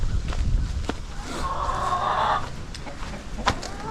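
Rhode Island Red chickens clucking and calling on a homestead, a busy flock with a sustained squawk in the middle and scattered sharp clucks around it, fairly close and unaccompanied by talk.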